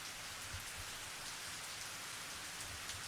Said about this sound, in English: The sound of rain and wind